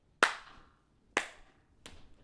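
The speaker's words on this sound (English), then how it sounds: "they all clap their hands" Three separate hand claps, sharp and fairly faint, spaced about a second apart, the last one softer.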